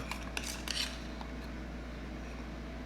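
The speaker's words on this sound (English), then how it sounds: "I'm just scraping it all out." Dalgona coffee, the whipped coffee foam, is scraped out of a bowl with a few brisk clinks and scrapes in the first second. A steady low hum fills the rest of the clip.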